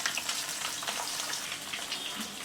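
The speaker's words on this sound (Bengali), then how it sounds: "হ্যান্ডেলটাকে ধরিয়ে একটু ঘুরিয়ে ঘুরিয়ে মাছটাকে ভেজে নিব" Whole bacha river fish frying in a pan, a steady close crackling sizzle with dense spattering that holds evenly throughout, no voices.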